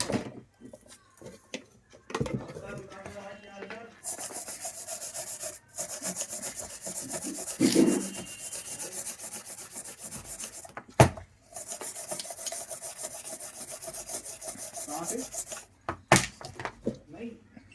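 A brush scrubbing a servo motor part clean with MTO thinner, giving repeated rough, rasping strokes in bursts with pauses between them, while someone talks quietly at times.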